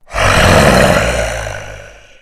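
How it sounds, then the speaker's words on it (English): A loud, deep monstrous roar swells quickly and then slowly fades over about two seconds, heard alone. "Hear the roar of the flesh eaters,"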